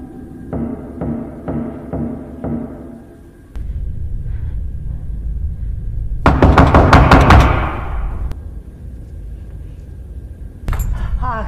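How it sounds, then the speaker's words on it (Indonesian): Several quick, evenly spaced knocks on a bedroom door from outside, followed by a low rumble, a loud crash-like burst and a few later sharp hits in a tense nighttime scene. "suara pintu kamar yang tiba-tiba ada seseorang yang mengetuknya dari luar"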